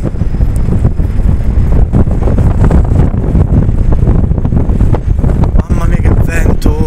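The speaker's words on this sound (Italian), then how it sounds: "Mamma mia che vento, ma vento freddo." Strong, cold wind buffets the microphone outdoors at Luna Park in Sydney, a loud continuous roar with gusty rumbling throughout.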